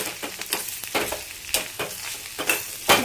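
Drumstick leaves are stirred in a frying pan: repeated rhythmic scraping strokes over a hot, crackling sizzle, close and fairly loud, with no talking.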